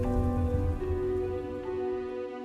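Steady rain falls around a mango tree in an aswang horror audio drama, a dense patter that runs throughout under a low, sustained musical drone.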